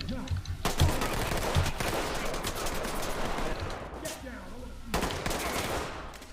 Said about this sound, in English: The fuck is he shooting at?